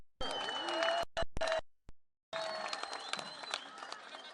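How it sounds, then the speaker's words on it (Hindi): Crowd applause at a political rally in Pishin, Balochistan, rising in short loud bursts broken by abrupt gaps, with voices and shouts mixed into the clapping. "एक बड़ी ताली तो बनती है ना।"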